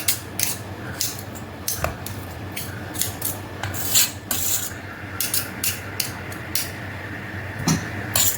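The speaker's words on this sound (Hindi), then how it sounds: "चाकू की हेल्प से थोड़ा सा इसको अलग कर लेंगे सारा" Knife scraping and loosening a sago, peanut and makhana burfi mixture, giving intermittent rasping scrapes and small taps at an irregular rhythm, close and moderately loud with no talking.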